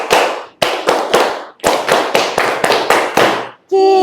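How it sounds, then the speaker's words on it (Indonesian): Classroom group doing a rhythmic clapping chant about the impossible traits of the Prophet, with sharp synchronized hand claps in bursts and a clear voice starting up at the very end. "Tepuk sifat mustahil bagi Rasul"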